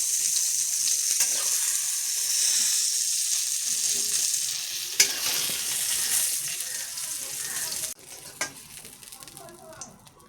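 Food sizzles in hot oil in a pan during preparation of a hilsa and eggplant curry, a bright steady frying hiss with a few sharp scrapes of stirring, the sizzle easing near the end.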